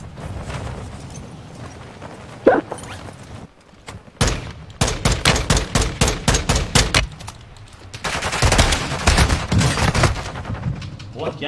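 Rapid video game gunfire rings out in bursts, with an isolated shot, a long stretch of evenly spaced loud rounds and a dense final volley, close and loud over a low background rumble.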